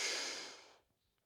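A soft exhale during a standing splits exercise with the standing leg locked, a breathy rush that starts fairly close and fades away within a second, leaving near silence.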